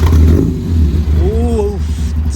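A modified Datsun 1200 ute engine cranks and fires up with a rising rev, loud and close, while people talk over it.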